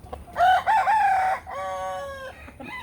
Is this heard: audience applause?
no